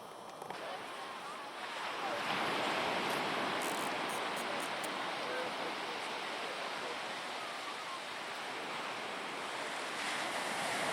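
Surf washing onto a sand beach in Nova Scotia, a steady broadband roar that swells after a couple of seconds and holds, with some wind noise on the microphone.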